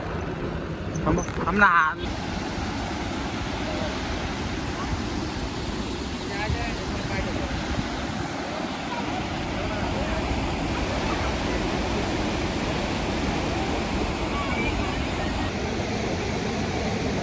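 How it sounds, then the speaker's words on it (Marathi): A waterfall at Kashyapi dam near Nashik roars steadily and broadly across the whole span. A brief burst of louder handling noise comes near the start, and indistinct voices may sit faintly under the rushing water. "एकदम भारी बघा, धबधबा आहे मस्त"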